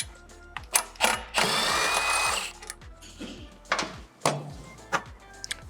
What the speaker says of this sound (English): Now I'm going to remove the bolts on the left and right side that hold the bottom of the crash guard on.